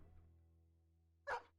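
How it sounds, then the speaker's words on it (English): A single short dog bark from the medieval strategy game Battle Brothers, brief and fairly faint over a low steady hum near the end. "here's a dog"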